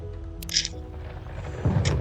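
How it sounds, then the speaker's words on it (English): A low rumble of thunder from a storm outside a coffee shop in the video game Coffee Talk, heard faint and indoors under soft ambient music, with a couple of brief higher clicks. "Aside from the thunder outside, that is."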